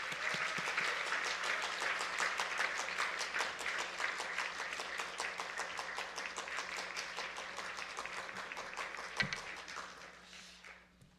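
A church congregation applauds to welcome the pastor to the pulpit during a Sunday worship service, with steady, dense clapping that carries on for about ten seconds and then fades out near the end.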